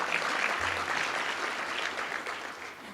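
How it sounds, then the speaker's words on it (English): A fairly quiet wash of applause from an audience at a county State of the County address, steady and even with a low hum underneath. "Give them a round of applause."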